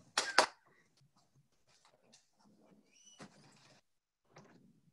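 A door bangs loudly against a dog's tail in a home office, a sharp double knock, followed by faint shuffling and soft movement sounds at a distance.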